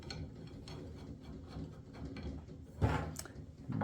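Screws are driven tight on a weatherproof plastic outdoor kitchen island with a stainless steel top, giving faint, close ratcheting clicks with one louder clack near the end.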